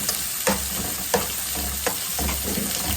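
Onion and garlic fry in a pan with a steady close sizzle, and a few sharp scraping stirs of the spatula come at regular intervals. No voices.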